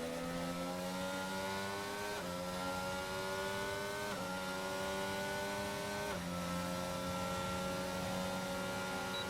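Racing cars in a video game race in China hold a steady high engine whine, with pitch climbing and then dropping at several gear shifts, constant and near.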